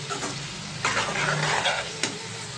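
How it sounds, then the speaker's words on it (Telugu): Raw prawns, already partly cooked, drop into a hot pan of soft-cooked tomato and oil, giving a steady close sizzle with stirring scrapes and a brighter burst of frying as they land. "ఇప్పుడు దీంట్లో నేను ఆల్రెడీ మగ్గించుకున్న పచ్చిరొయ్యలు అన్నది వేసేసుకుంటున్నాను."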